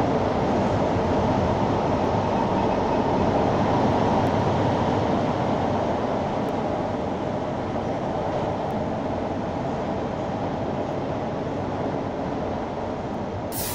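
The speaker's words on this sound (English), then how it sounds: "This is a clockwise train bound for Solutional Park." A Minecraft automatic metro train on a lake loop line runs steadily with a continuous, loud rumbling roar that holds nearly level throughout, with no talk over it.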